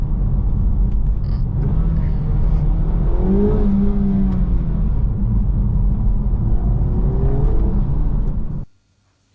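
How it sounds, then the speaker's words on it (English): A Honda Civic Type R FL5 engine with a Spoon Sports intake filter revs and drones with a deep intake roar, rising and easing in pitch, steady and fairly loud, then cutting off abruptly near the end. "Now you can hear the intake more, which is good."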